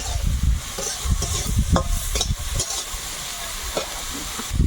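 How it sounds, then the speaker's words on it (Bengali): Eggplant frying in a pan with turmeric and salt, a close steady sizzle broken by bursts of stirring and scraping, moderately loud. "বেগুনটা ভেজে নিচ্ছি প্রথমে একটু হলুদ দেবো লবণ আর অল্প একটু চিনি মাখিয়ে"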